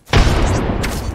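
Frag grenade explosion in the Apex Legends shooter game, a sudden loud near blast that sets off an abrupt boom and rumbles for about a second with a second crack near the end, with no talking.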